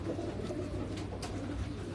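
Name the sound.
pigeons cooing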